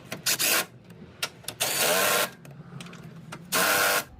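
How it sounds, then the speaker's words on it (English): An impact wrench tightens a 17mm engine mount bolt on a Honda 2.4L in a workshop, firing three loud, close bursts of rattling hammering of about half a second each, with quieter clanks of metal between them. "then you just use the impact to tighten up"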